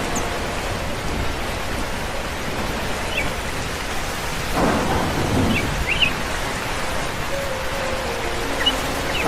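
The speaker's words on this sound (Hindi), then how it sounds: "जाती हूँ अंदर, कहीं मैं भी उड़ न जाऊँ इस तूफान में।" Heavy rain pours steadily in a cartoon thunderstorm, a dense wash of noise that stays loud throughout, with a low rumble of thunder swelling in the middle and no one speaking.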